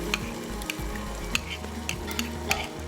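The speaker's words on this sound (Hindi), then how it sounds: "30 से 40 सेकंड आपने इसको फ्राई करना है" Chopped onions frying in a pan over a high flame alongside yogurt in a dessert kitchen, with a continuous close sizzle broken by several sharp stirring clacks and scrapes, no voices.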